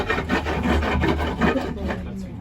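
A rough basalt stone scrapes back and forth over wood in quick rasping strokes, close and steady, like filing or sanding by hand.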